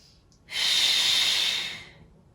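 A single loud, close exhale rushes out for about a second, then tapers off, drawn out during a gentle stretching exercise with no talking.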